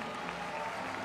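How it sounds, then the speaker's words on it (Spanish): An audience applauds Miss Mexico at the crowning of the 2024 Reinado Internacional del Café beauty pageant, a dense, steady wash of clapping that holds at an even level throughout the brief moment. "Un aplauso para Miss México."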